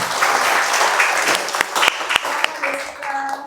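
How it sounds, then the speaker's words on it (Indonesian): Audience at a school geography talk show applauds for the moderator, with dense, loud clapping that continues throughout and a few sharper claps standing out. "Tepuk tangan dulu untuk"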